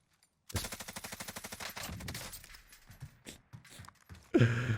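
In the video game Warzone, a rapid burst of automatic gunfire plays as a fast, evenly spaced string of sharp shots, close and punchy, tapering into scattered shots before a louder blast at the end.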